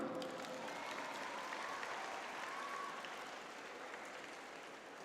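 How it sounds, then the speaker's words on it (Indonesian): An audience at an education awards night in Banda Aceh applauds, a soft, distant wash of clapping that holds steady and then slowly fades. "Mari beri tepuk tangan penghormatan bagi insan pendidik yang penuh hikmah."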